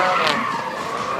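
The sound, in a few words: drift car skidding, tires squealing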